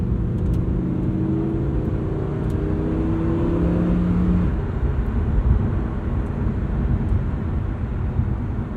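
A Lamborghini cruises casually in strada mode, its engine a steady low drone heard from inside the cabin, with a rising whine that fades midway, plus road rumble and faint ticks.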